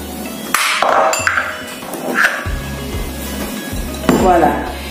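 Djansan nuts are cracked with a few sharp, hard knocks close by while a tomato sauce is prepared in a kitchen. A low hum runs underneath.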